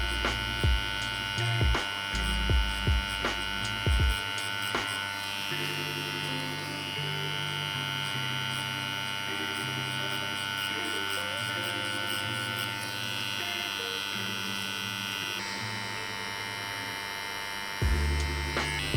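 Steady electric buzz of a tattoo machine running a 23 magnum soft edge needle during grey wash shading on real skin, a continuous close hum with small clicks at the start and end; no talking.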